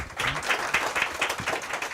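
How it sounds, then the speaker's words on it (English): A crowd at a community unity event gives a round of applause, many hands clapping in a dense, steady burst that stays fairly loud throughout the short stretch. "Let's give them a round of applause."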